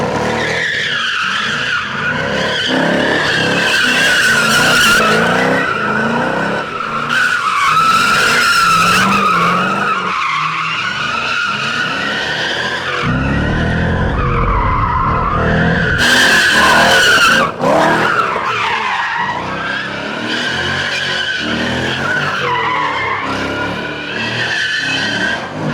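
An inexpensive used Corvette skidding with its tires squealing; loud, sustained wavering tire screeches come close by in repeated bursts over engine revving, with no talking.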